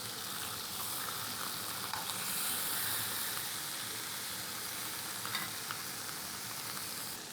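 Lobster tails fry in melted ghee in a skillet, giving a steady, close, even sizzle with crackling spatters throughout and no voices.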